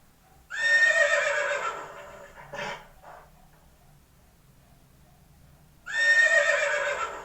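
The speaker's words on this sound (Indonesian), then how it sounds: "ternyata itu ya suara kuda" A horse whinnies loudly and close by, then after a few seconds of quiet with a faint snort, a second long neigh rings out.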